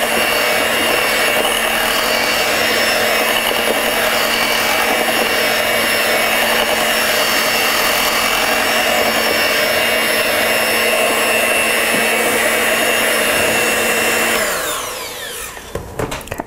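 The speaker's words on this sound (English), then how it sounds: "Completely blend every single egg before we move on to the next one." An electric mixer blends eggs into cheesecake batter, humming steadily and loudly close by with a faint scraping texture, then winding down and stopping near the end.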